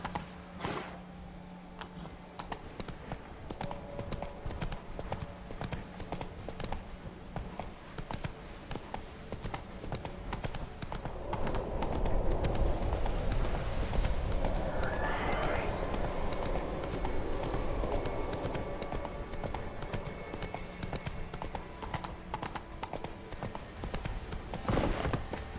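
A horse gallops in The Witcher 3, its rhythmic hoofbeats running steadily under game ambience and turning louder and fuller partway through. A voice speaks briefly over it.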